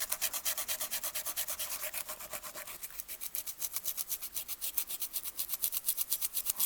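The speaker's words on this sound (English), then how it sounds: "What I use is scrubbing pads. I go like that." A scrubbing pad works back and forth over a part of an Athearn model locomotive motor. It makes a close, steady run of rhythmic scratchy rubbing strokes, with no talk.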